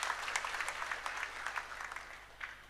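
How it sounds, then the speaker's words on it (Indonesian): A church congregation at a Sunday service claps together, a soft, fairly distant patter of applause that gradually thins out. "Berikan tepuk tangan untuk Tuhan Yesus kita."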